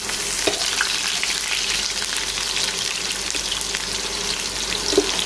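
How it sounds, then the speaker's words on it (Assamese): Onions for chicken biryani frying in hot oil on a high flame, giving a loud, dense, continuous sizzle with a couple of faint spoon taps, close and with no talking. "আৰু পিঁয়াজখিনি একেবাৰে মই হাই ফ্লেমত ভাজিম।"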